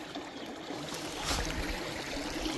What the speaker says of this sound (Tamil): நல்லா தண்ணி ஓடிக்கிட்டு இருக்கு பாருங்கள்.